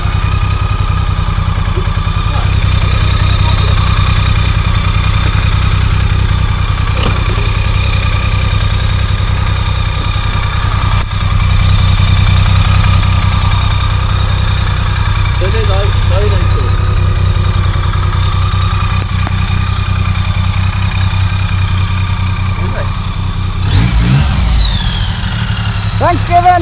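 BMW K75 motorcycle engine with a previously stuck sprag clutch, idling steadily in a low, even throb that runs close and loud throughout, with a brief rising rev near the end.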